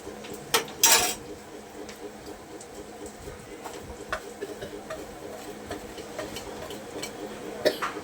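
A spoon clinks and scrapes in a pan while turmeric, salt and Maggi masala are stirred into noodles. The taps are sparse and fairly soft over a steady low background, with a couple of sharper metallic knocks near the start and the end.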